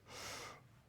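A single deep inhale drawn in through the nose or mouth, a soft breathy rush that swells and fades in under a second, close and quiet with no talking.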